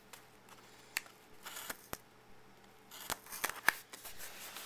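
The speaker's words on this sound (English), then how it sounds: "Figured with the scissors would make at least this first part easier." Scissors snip open a DVD gift-exchange package, a few sharp, close cuts and rustles spread out over the stretch, with a cluster of quick clicks near the end; no one talks.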